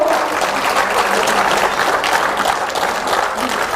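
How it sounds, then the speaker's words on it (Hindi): Steady applause from an audience fills the whole stretch, dense and even without a break, with no voices standing out. "आपकी तालियों की ध्वनि उनके उद्बोधन के समान ही ओजपूर्ण हो"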